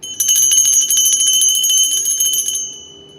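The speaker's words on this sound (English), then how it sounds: "let me ring the bell real quick" A bell rung repeatedly in a quick, rapid trill, loud and close, ringing steadily for about two and a half seconds before stopping and leaving a fading metallic hum.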